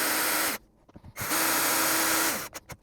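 A power drill drives silver screws to attach a smart lock mounting plate to a door, giving two steady, loud whirring runs separated by a short pause with faint handling clicks.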